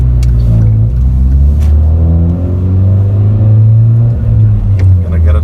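A 2013 Hyundai Genesis Coupe R-Spec pulls hard in second gear on a back road, its engine a loud, steady droning rumble whose pitch holds and wavers with a brief dip near the end; a voice speaks over it.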